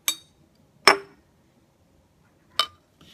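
Glass lab glassware clinking: a glass flask and a watch glass knock together in three sharp, separate clicks with a softer fourth tap at the end, close by in a quiet room.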